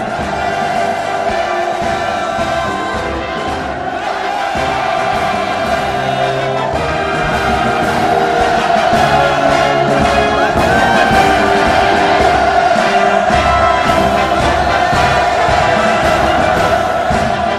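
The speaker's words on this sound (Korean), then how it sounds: "우렁찬 만세 환호성 수도의 상공에 끝없이 메아리쳐 갑니다" A massive crowd at a Pyongyang mass rally in Kim Il Sung Square roars sustained hurrahs and cheers, a loud unbroken wall of voices carrying on for many seconds with swelling shouts.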